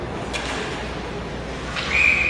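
A referee's whistle sounds at an under-13 youth ice hockey game, a single steady blast near the end that rises over a constant hum of arena noise.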